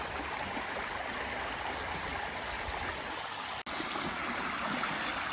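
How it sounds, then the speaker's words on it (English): A spring-fed creek on a farm runs full after heavy rains, making a constant close rushing wash with one very brief dropout and no voices. "Little ditch coming out of the hill from over there that's going to be spring fed around there somewhere."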